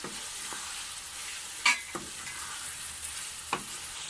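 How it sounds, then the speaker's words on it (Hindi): Meat fries in a pan with a steady soft sizzle, broken by a few sharp scraping stirs of a spoon against the pan, close and moderately quiet, with no talking. "गोश्त हमारा अच्छे से फ्राई हो चुका है।"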